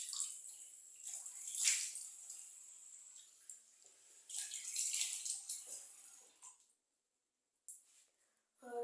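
Cold tap water runs in bursts for face washing, hissing splashes rising and fading close by with short pauses and a brief silent gap near the end.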